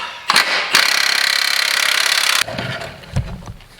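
A wrench works on a part with a loud, buzzing, rattling burst lasting under two seconds, bracketed by sharp knocks and followed by softer clunks.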